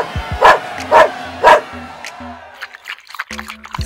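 A Portuguese water dog puppy gives three evenly spaced, sharp barks up close, followed by softer yips and faint background noise.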